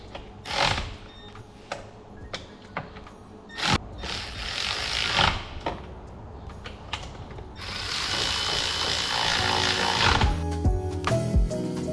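A ratchet tightens bolts on a budget buggy motor with clicking bursts and metallic clanks, close and fairly loud, building to a sustained stretch of rapid ratcheting near the end; no talking.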